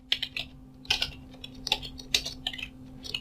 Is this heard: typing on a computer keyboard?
yes